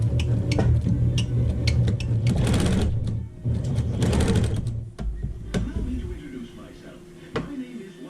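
Sewing machine stitching pieces of a Hunter Star quilt block, with bursts of rapid mechanical whirring that start and stop, separated by brief pauses and handling clicks, close and fairly loud.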